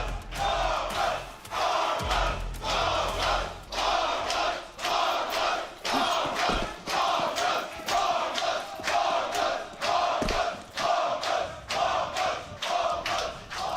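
A big esports arena crowd at a Counter-Strike world championship final in Berlin chants in loud rhythmic waves, roaring and pulsing steadily with a few thuds.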